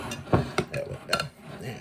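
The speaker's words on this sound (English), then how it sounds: "I like to break my egg yolk up first." A spoon clinks and taps against a mixing bowl while an egg yolk is broken up, a few sharp uneven knocks at close range.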